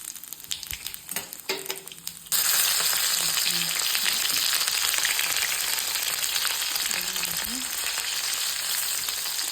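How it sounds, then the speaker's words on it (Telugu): Raw banana pieces drop into hot oil and start frying with a sudden loud, steady sizzle that carries on evenly, after a few quieter handling noises at the start. "అరటికాయ ముక్కలు ఇవి బాగా ఫ్రై అయ్యే వరకు వేసుకోవాలి"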